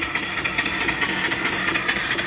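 A live steam engine runs on compressed air with a rapid, even chuffing beat, loud and close, a steady mechanical hiss and patter with no voices.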